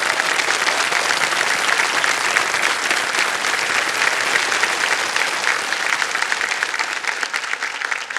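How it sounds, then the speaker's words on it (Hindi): A studio audience on the quiz show Kaun Banega Crorepati claps in steady, dense applause that stays loud from start to end, with no voices over it. "तालियां बज जाए इनके लिए एक बार फिर।"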